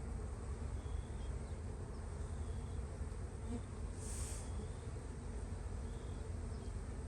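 Honey bees buzz steadily over a brood and honey comb frame, giving a soft, continuous drone with no speech.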